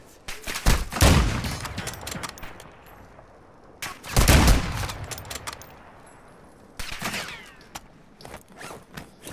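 Three separate long-range gunshots in a shooter game, each a loud crack with a trailing echo and decay, spaced a few seconds apart, with quieter rustling between them.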